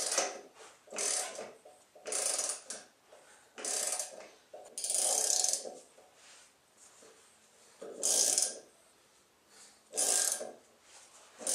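A ratchet wrench works a sway bar link loose on a 1999 Jeep WJ, giving repeated bursts of rapid ratcheting clicks, each lasting about a second, spaced by short pauses and fairly close.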